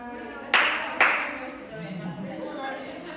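Two sharp hand claps about half a second apart during a classroom English lesson activity, close and distinct, followed by quiet voices talking softly.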